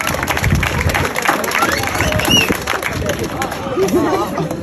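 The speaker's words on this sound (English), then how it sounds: "Give yourself a round of applause because you guys deserve it" Crowd at a school district graduation keynote applauding and cheering, dense clapping mixed with chatter and shouts from many people throughout.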